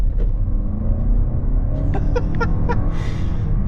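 Steady low engine and road rumble from inside a 2023 Toyota Crown Platinum AWD rounding a turn, continuous and close, with brief vocal sounds from the driver near the end.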